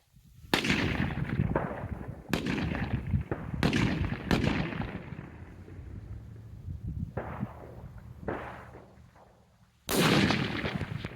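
Rifle shots fired during target shooting at a 300-yard target outdoors: several loud, sharp cracks spaced a second or so apart, each trailing off in a rolling echo, with quieter gaps between and a final sharp report at the end.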